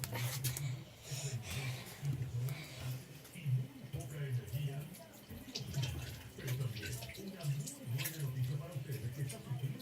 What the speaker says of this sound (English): let me turn on the faucet and clean my hands